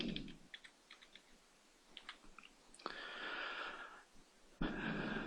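Quiet, irregular clicks of fingers typing a name on a computer keyboard, followed by a brief soft rushing noise; no talk.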